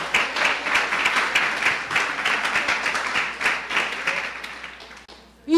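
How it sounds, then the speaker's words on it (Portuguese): Church congregation applauding during a worship service, a dense, steady wash of clapping from many hands that stays loud throughout before tapering off near the end. "Uma salva de palmas ao Senhor."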